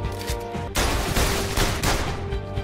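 Gunfire in a PlayStation VR shooting game: a burst of rapid, loud shots that fills most of the moment after a brief quieter lead-in.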